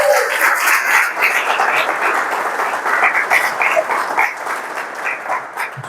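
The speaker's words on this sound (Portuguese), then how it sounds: "Agora se aplauda o Senhor." A church congregation claps together in praise to the Lord, a loud, full wash of applause that fills the room and gradually eases slightly toward the end.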